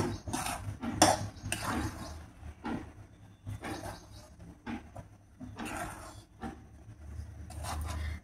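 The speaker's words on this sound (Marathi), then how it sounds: "हे पीठ थोडं थोडंसं कणी टाकूया आणि असं चमच्यानं सगळं मिक्स करायचं आहे" A spoon clinks and scrapes against a pot as flour is stirred into boiling water, in irregular quiet knocks and scrapes, with a low bubbling hum beneath and no talking.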